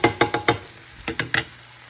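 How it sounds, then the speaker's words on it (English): Food sautéing in a pan for homemade spaghetti, a bed of sizzle punctuated by several quick scraping stirs in two short bursts, close and clear. "I am going to finish sauteing this up and get this out of the pan"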